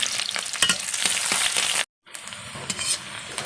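Chopped onions sizzle in hot oil in a pan with a bay leaf, a steady close crackle with occasional stirring scrapes and a brief break in the middle.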